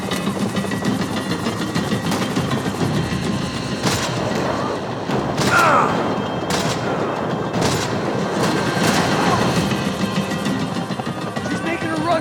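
Gunshots and heavy booms crack out repeatedly through a chaotic firefight in the Max Payne 3 video game, with voices shouting under the noise.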